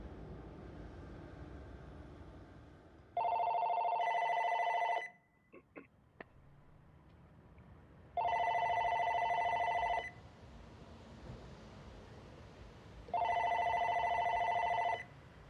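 A telephone rings in three long, loud bursts separated by quieter gaps with a few clicks, over low background rumble, before an answering machine picks up.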